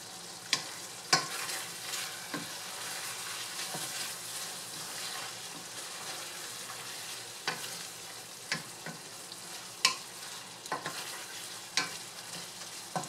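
Pork, carrot and other vegetables with rice noodles frying in a pan, a steady soft sizzle broken by sharp clicks of a utensil stirring against the pan, fairly quiet and with no talking.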